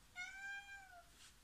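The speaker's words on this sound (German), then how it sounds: "Meine Katze läuft hier schon wieder rum und" A house cat gives a single faint, drawn-out meow that slides slightly downward in pitch, heard alone against a quiet indoor background.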